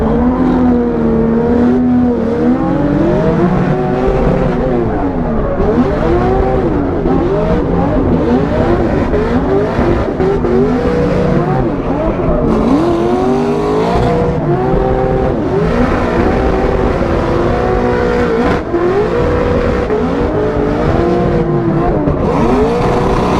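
BMW E36 at a drag racing event with a failing transmission, engine loud and close throughout, revving up and down repeatedly with rough, rattling mechanical noise underneath.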